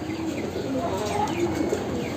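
Gola pigeons cooing in a coop set up above Brahma chickens, several soft low coos repeating over a steady background hiss, fairly close.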